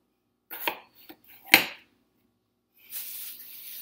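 A knife cuts pieces off potatoes with a few sharp, close cutting clicks and one strong chop, then a short scraping swish after a pause.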